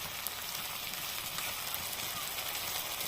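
Poppy seed paste and green chillies frying in a pan for rui posto, a steady dense sizzle with no pauses.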